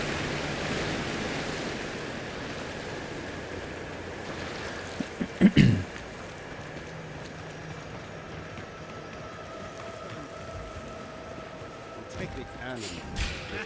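Steady rushing water from a waterfall in the fantasy game Avowed runs as a constant broadband wash through the clip, with a brief sharper sound near the middle and small bumps at the end.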